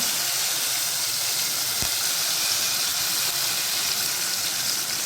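A steady, loud sizzle of curry leaves and asafoetida frying in hot oil for a tempering, hissing continuously without a break.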